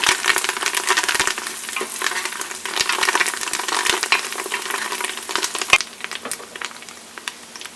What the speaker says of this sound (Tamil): கொத்தமல்லி வந்து சேர்த்துட்டு லைட்டாக வந்து அதை வந்து வதக்கி விட்டுக்கிட்டோம்.